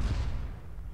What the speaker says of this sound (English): Tossing imploder over the wall.